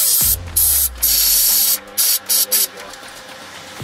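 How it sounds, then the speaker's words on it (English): Cleaner is sprayed onto the distributor and points of a Volkswagen Westfalia camper van that has not been started in 14 years. Several loud, close hissing bursts of varying length come in quick succession. "So let's go ahead and just spray up that distributor one more time."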